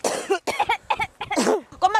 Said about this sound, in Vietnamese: mày còn ho giống mẹ chồng mày thế à?